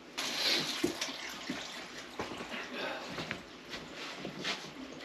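Water poured from a store-bought jug of filtered rainwater, a faint trickling splash with scattered clunks and taps around it, fairly quiet and close.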